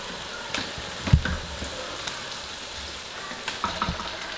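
Chicken pieces hit a hot pan of cooked masala for a Pakistani sobat dish and crackle with a steady close sizzle, broken by a few sharp pops and the clink of stirring.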